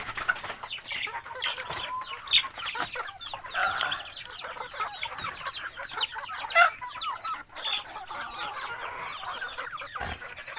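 Several native chickens of a large breed cluck and chatter continuously nearby, with a few sharper squawks and brief wing flaps standing out.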